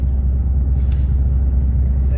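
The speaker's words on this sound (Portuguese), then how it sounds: "Mas aí vem um caminhão." A truck passes on a road in England, a heavy, steady low rumble of a large engine that stays loud throughout while people talk over it.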